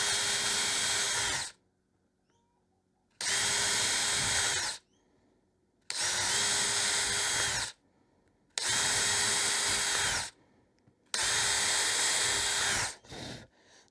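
A power drill whines through five evenly spaced bursts of about a second and a half each, with quiet gaps between them, close and loud while drilling screw holes.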